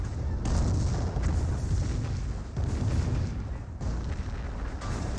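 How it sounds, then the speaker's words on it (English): An artillery barrage in the World War II strategy game Company of Heroes, with repeated heavy booms rumbling one after another at a steady loud level with no talk. "That Warfare Barrage is running on in."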